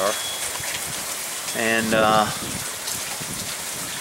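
Steady rain falling during an incoming hail storm outdoors near horses makes a constant hiss throughout, while a voice briefly speaks over it midway.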